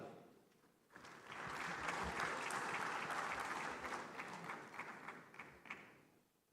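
Audience applause fills a large conference hall at the 30th Afreximbank Annual Meetings, rising sharply after a quiet second and holding steady as a dense, sustained wash of many hands before tapering slightly near the end.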